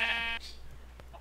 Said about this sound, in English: I mean, hey, black sheep. Two black sheep.